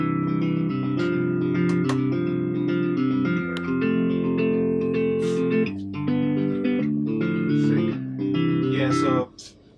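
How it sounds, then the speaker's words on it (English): A guitar sample plays a chord progression in sustained, bright tones, steady and moderately loud, before stopping abruptly near the end. "I sampled, like, a guitar."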